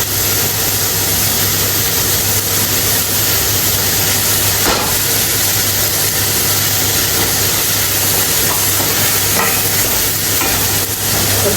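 Garlic sizzles hard in a hot pan in a loud, constant hiss and crackle that fills the whole clip, with no voices over it.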